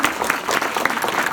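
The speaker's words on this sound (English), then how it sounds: "we would all like to give a big round of applause" After a Q&A session, an audience breaks into brisk, close applause, a busy even stream of overlapping claps throughout the short moment.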